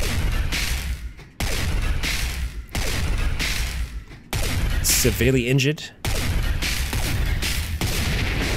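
Repeated gunfire from the video game Cataclysm: Dark Days Ahead, loud broadband bursts filling most of the clip with brief gaps, alongside a short synthetic game tone in the middle and a voice speaking briefly.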